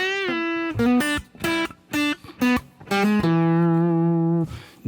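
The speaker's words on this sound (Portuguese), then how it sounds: "Eu vou trocar para um reverb do tipo Hall." Electric guitar played through a budget audio interface with hall reverb and amp simulation, a series of sustained clean notes and short chord stabs with a ringing reverb tail, loud and close, no talking.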